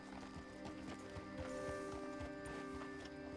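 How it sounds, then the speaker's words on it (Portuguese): Horse hooves clip-clop in a steady walking rhythm while riding in a game world, the rapid hoofbeats running throughout over a faint musical hum. "Estou andando a cavalo."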